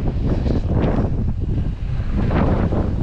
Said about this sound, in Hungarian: mekkora szél van